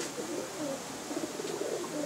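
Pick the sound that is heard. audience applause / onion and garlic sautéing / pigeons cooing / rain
pigeons cooing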